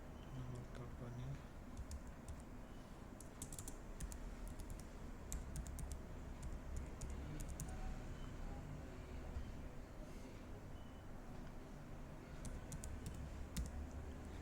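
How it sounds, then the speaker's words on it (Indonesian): A phone number is typed on a computer keyboard. Faint, quick clusters of key clicks rise and fall over a steady, low background hiss. "Misalnya ketik nomor teleponnya"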